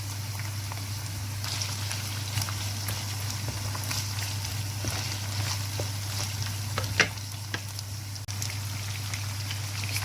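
Onions and meat frying together in a pan, a steady close sizzle with scattered crackles and a few soft stirring clicks over a constant low hum.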